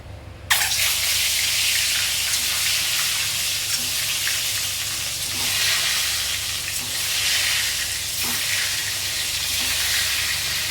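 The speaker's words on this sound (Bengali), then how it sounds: "কড়াই তেলের মধ্যে নুন হলুদ দিয়ে ডিমটা ভেজে নেবে বলে" An egg fries in hot oil in a wok-style pan with salt and turmeric, giving a loud, steady sizzle that bursts in at the start and crackles on without a break, with no talking.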